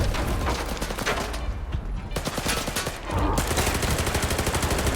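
A player firing a gun at a pseudo giant in a shooter game: sustained rapid automatic fire, loud and close, rattling steadily with a short lull in the middle before the fire resumes.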